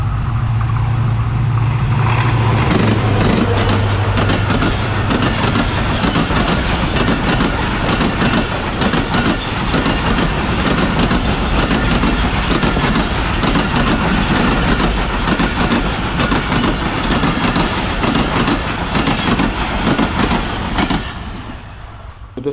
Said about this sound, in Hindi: इस वक्त सामने से आ रही है वही बदकिस्मत हज़ारा एक्सप्रेस HGM 38214 लोकोमोटिव के साथ